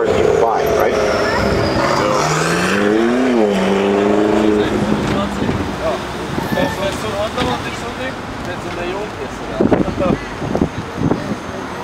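A sports car drives past on a Beverly Hills street, its engine rising and falling in pitch as it nears and moves off, with ongoing traffic noise and people talking throughout.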